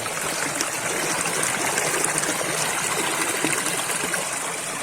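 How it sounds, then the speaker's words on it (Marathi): A small hillside brook fed by spring water runs downhill during the rainy season, giving a steady, close, broadband rush and trickle that holds even throughout, with no voices over it. "या ठिकाणी हा छोटासा ओढा आहे ओढा म्हणजे हे सगळं झऱ्याचंच पाणी येतं वाहत वाहत खाली"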